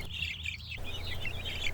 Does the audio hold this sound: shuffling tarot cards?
no